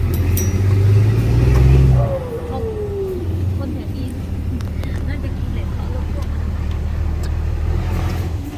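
A car pulls away in third gear on a slippery dirt track, its engine droning and revving low while the tyres slip, with people talking over it.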